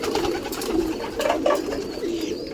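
Pigeons coo on a wet rooftop, several soft, throaty warbling calls rising and overlapping close by against light background noise.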